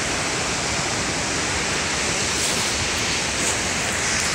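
A creek swollen by storm runoff and snowmelt thaw roars in a steady, dense rush of churning water, loud and close with no pauses, filling the whole moment without any voices.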